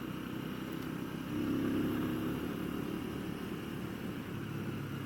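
A Genuine G400C motorcycle's exhaust pipes give a soft, steady low rumble at a distance, swelling slightly partway through before settling back to an even drone.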